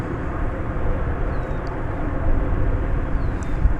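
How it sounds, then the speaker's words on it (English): An Emirates Boeing 777 airliner taxiing slowly toward Terminal D at DFW Airport, a constant low engine rumble and broad airport roar from a distance, with no talking. "that's the Emirates 777, which is now slowly making its way over to Terminal D"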